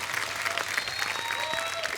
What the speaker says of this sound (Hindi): नेहा दीदी और रोहन जीजू के लिए जोरदार तालियां हो जाएं।